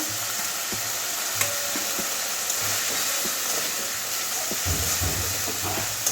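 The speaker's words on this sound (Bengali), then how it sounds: "এবারে ভেজে রাখা আলুগুলো দিয়ে দিচ্ছি" Fried potatoes tumble into a cooked-down masala, oil sizzling steadily while a spoon stirs and scrapes in soft irregular knocks; no one speaks.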